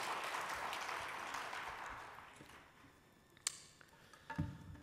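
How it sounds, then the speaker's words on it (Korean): A church congregation in Korea claps steadily in sustained applause that fades out, followed by a few faint knocks. "우리 박수로 격려해 주십시오."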